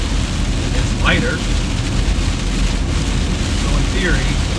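Heavy rain drums on a moving vehicle on a subway route, a loud dense continuous wash with low road rumble underneath and a few faint squeaks.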